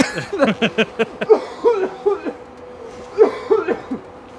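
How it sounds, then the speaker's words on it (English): A man breaks into a close, loud coughing fit, a rapid series of harsh coughs followed by a few more bursts after a short pause, with some chuckling mixed in. "I hope you don't go on a coughing fit here"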